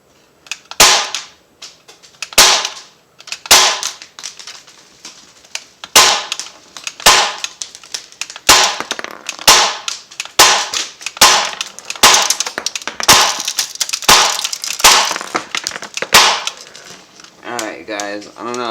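.177 caliber BBs from an Umarex T.A.C. Converter air rifle striking a target, a long run of loud sharp cracks, spaced at first and then faster, ending in a brief ringing tail.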